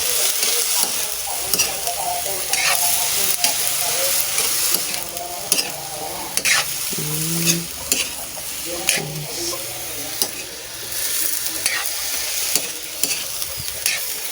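Eggplant frying in a pan, stirred with steady scraping over a continuous sizzle, close and fairly loud, with a few faint voice fragments underneath.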